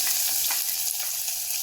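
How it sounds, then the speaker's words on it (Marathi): Chopped onion sautéing in a pan for soji upma, with a steady, close hiss of sizzling oil and soft stirring scrapes throughout, and no talking. "कांदा गुलाबी रंगावर येऊपर्यंत भाजायचा."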